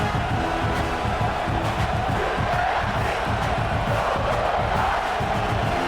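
A stadium crowd in the EA Sports College Football game, Coastal Carolina against South Carolina, roars continuously at full volume, a thick, steady wall of cheering and yelling without pause.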